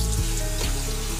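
Water running from a sink tap while face product is rinsed off, a loud, close, steady splashing rush with brief shifts as hands move through the stream.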